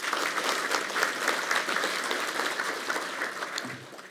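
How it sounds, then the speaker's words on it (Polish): Audience applauding at the inauguration of the academic year at Koszalin University of Technology, a steady, dense clapping from a large hall crowd lasting throughout, fading slightly near the end. "Wielkie brawa dla państwa."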